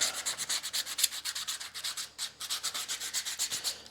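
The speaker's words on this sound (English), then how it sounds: "sanding down the edge" Hand sanding along the edge of a wooden backplate, a steady series of close, rhythmic rasping strokes, roughly four to five per second, with no voices.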